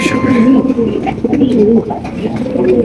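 Several Black Shiraji pigeons coo continuously in low, throaty rolling phrases, close and fairly loud, with some bustle and faint voices in the background.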